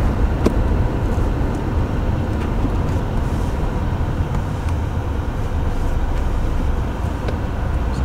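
Volkswagen car with a Tiptronic automatic gearbox driving along a road, a steady broadband rumble of engine and road noise holding level and fairly loud throughout, no voices.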